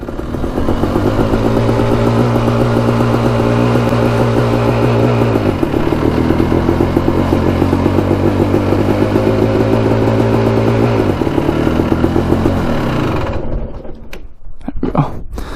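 A Suzuki LT 500 Quadzilla quad idles close by with a loud, steady, chugging engine note that sounds slightly lean. The rhythmic thrum holds nearly unchanged for about thirteen seconds, then cuts off abruptly, leaving only brief clatter, with no talking.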